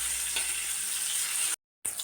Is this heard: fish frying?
yes